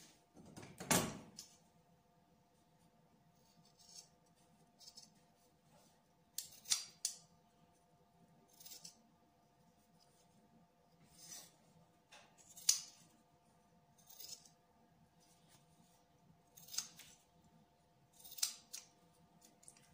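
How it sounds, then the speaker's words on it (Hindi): Scissors cut fabric triangles for sleeve cutwork in a quiet room, with distinct crisp snips spaced a few seconds apart, close up, under a faint steady hum. "अब हम इन ट्रायंगुलर्स को काट लेंगे।"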